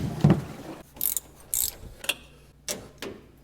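A hand ratchet loosens the belt tensioner on a Chevrolet squarebody truck engine in several short bursts of crisp clicking, separated by pauses, close and clear with no talking.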